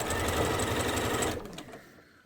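Quilt blocks are joined on a sewing machine in a small floating studio; the motor whirs loud and close in a steady run, then slows and winds down to quiet.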